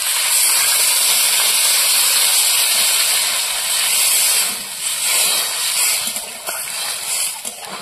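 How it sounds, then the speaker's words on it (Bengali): Water poured into a hot pan of sautéed squash curry, cooked village-style with fish, sets off a loud, steady sizzling hiss that eases slightly midway and then continues unevenly, with no talking. "সবজিটা ভালো করে কষিয়ে নিয়েছি, এবার জল দিয়ে দেবো।"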